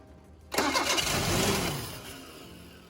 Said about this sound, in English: we'll start by manually pouring fuel into the carburetor to see if the truck wants to fire up